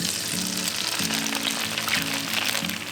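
Eggs fry in vegetable oil in a pan for Thai basil shrimp fried rice, giving a dense, continuous crackling sizzle over a low, faintly pulsing hum, with no voices.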